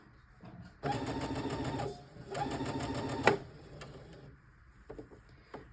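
A sewing machine stitching fabric for an asymmetric top, running in two short bursts of rapid mechanical whirring, with brief pauses and small clicks as the material is adjusted between runs.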